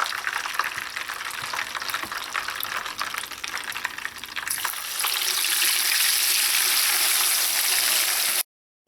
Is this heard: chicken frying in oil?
yes